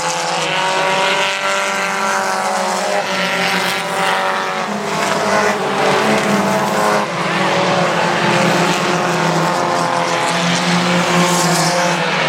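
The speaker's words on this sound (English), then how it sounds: "lots of cars out on the racetrack, lots of cars in every division just about here today" Sport compact race cars roar around the Central Texas Speedway oval, engines droning loud and continuous with shifting pitch as the pack passes, occasional tire squeal, and a faint announcer voice underneath.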